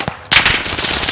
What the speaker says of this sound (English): there's more people shooting at us from deeper